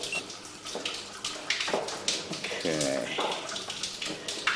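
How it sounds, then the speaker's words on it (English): Water runs steadily through a cracked sewer pipe during a camera inspection, a continuous splashing rush with voices talking over it. "Whoa, because he's running the water."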